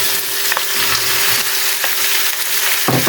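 Thinly sliced pork for kilawin sautéing in a hot pan, a loud, continuous sizzle close up with a few scraping stirs of the spatula and no voices.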